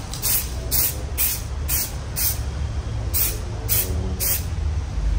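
Aerosol spray paint hisses in a series of short bursts, roughly eight of them, as car emblems on a Hyundai i30 N are painted, over a steady low rumble of background noise.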